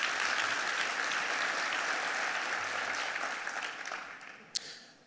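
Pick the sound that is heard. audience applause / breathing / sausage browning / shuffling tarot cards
audience applause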